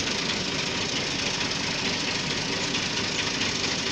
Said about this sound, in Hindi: ट्रैक्टर स्टार्ट कर लिया है।